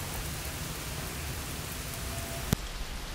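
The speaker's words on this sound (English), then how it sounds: "And then it is really raining right now." Heavy rain falls steadily outdoors in a constant dense hiss, with one brief sharp knock near the end.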